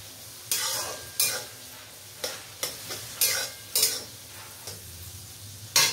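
Soya rice mixture frying in a pan and being stirred: a steady sizzle broken by about eight bright, rhythmic scraping strokes of a spoon through the food, close up, with no voices.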